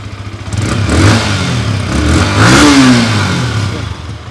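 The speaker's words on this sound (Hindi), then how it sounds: "ये है इसका एग्जॉस्ट का साउंड" A Yamaha R15 Version 4.0 motorcycle revs loudly, its exhaust note rising and falling through several close throttle blips with no voices over it.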